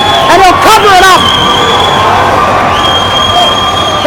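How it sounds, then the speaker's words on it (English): Crowd at an ice hockey cup final at the Diamond roars and cheers loudly after a goalie's sprawling save, with shouting voices over a sustained, dense din and a steady whistle-like tone running through. "The Diamond crowd loves it as Nick Medeiros sprawled out to make another dazzling save in the early going."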